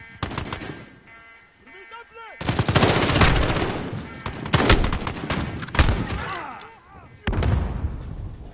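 Bursts of automatic gunfire during a firefight, loud and close, with rapid volleys separated by short pauses and shouted voices mixed in.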